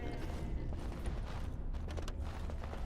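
Goats in the video game Dragon Age: Origins give a low creaking, door-like groan, a faint mechanical rasp that runs steadily under a soft background hum with no talking.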